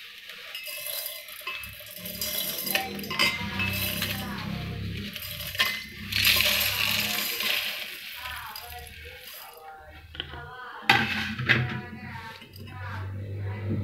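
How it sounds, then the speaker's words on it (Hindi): Roasted spices are tipped from a wok into a jar, giving metallic clinks, scraping and rattling from the utensil and vessels. A person talks over the clatter, which has a sharp clink near the end. "अब इसको हम इस जार में ट्रांसफ़र कर देंगे।"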